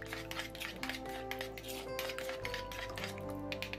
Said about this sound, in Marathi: दूधही आता आपल्याला यात व्यवस्थित मिक्स करून घ्यायचं आहे